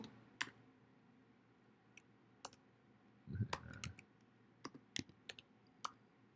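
Someone types on a computer keyboard, quietly and at a distance, producing sparse individual key clicks with one short quick burst of several keystrokes in the middle, over faint room hiss.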